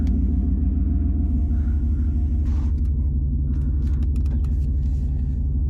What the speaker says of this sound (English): now we're gonna switch to just driving the vehicle, what it sounds like inside the truck